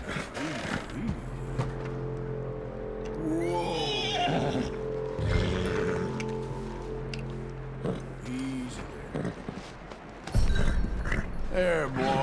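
A horse in Red Dead Redemption 2 whinnies and neighs several times, loud and close, amid hoof clops, tack creaks and shuffling, with a player talking intermittently over it.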